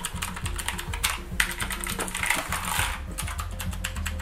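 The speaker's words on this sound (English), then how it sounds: "It's the same, it's a mechanical keyboard." Rapid, irregular typing on a noisy mechanical keyboard with tall keys, close and clicky, a dense run of sharp keystrokes with no talk.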